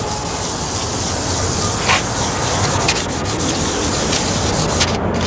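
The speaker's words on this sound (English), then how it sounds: "sand every surface down as good as you can until it's all equally smooth" Continuous dry rubbing and hissing of sandpaper worked over a faded plastic car headlight lens, close and steady with no pauses, no voices.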